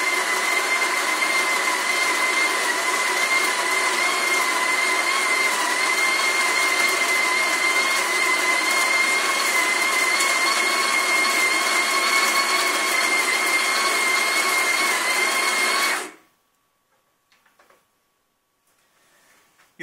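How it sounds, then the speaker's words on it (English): An espresso coffee grinder runs loudly and steadily for about sixteen seconds, dosing two shots into a portafilter with a constant whirring hum. It then stops abruptly and is followed by near silence with a few faint clicks. "this grinder measures the shots for me"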